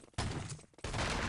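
A big artillery strike in the Enemy Territory shooter, two heavy, loud blasts of crashing explosive noise in quick succession.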